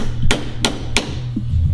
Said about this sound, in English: Don't use your wrenches as hammers to kids.